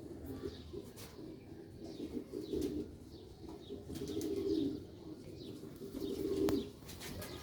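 Sialkoti pigeons coo in soft, low rumbling phrases, swelling a few times and peaking near the end, with faint chirps from other birds in the background and no talking.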